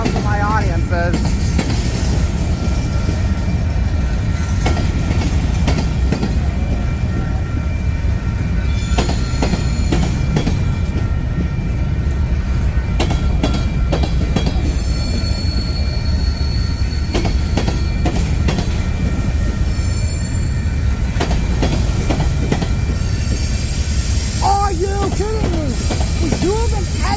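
Trains pass through St Paul, Minnesota, in a sustained loud rumble with squealing wheels, clattering rail joints and hissing, continuous and close throughout, with occasional voices underneath.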